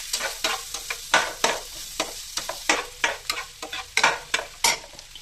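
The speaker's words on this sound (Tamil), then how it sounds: "இதே நெய்யில் போட்டு நல்லா வதக்கிடணும்" Chopped onions sautéing in ghee in a pan, a steady sizzle broken by repeated scraping stirs at an irregular rhythm, close and fairly loud with no talk.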